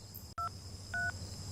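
Two short telephone keypad tones, clean and fairly close, separated by a brief pause after a soft click.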